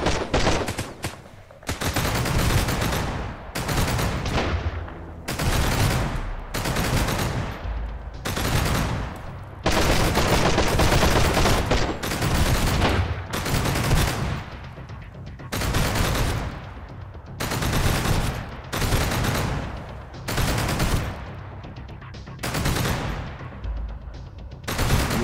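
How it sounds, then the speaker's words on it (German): Sustained gunfire erupts during an attack at a refinery in the survival game Sunkenland, with loud, dense bursts of automatic shots broken by brief pauses that keep repeating throughout. "Wir werden beschossen."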